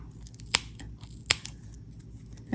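Scissors snip through crochet yarn, giving two sharp, close clicks about a second apart against a quiet background, with no voices.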